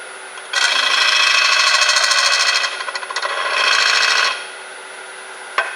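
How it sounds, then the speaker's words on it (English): Finishing gouge cutting a spalted red oak bowl on a wood lathe, a loud close scraping hiss in two sustained passes with a short dip between them, over a steady lathe hum, with no talking. "I'm using a finishing gouge here."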